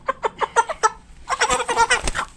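A large meat chicken squawks nearby in a quick run of sharp clucks, then bursts into a louder, flurried outcry, with no one speaking.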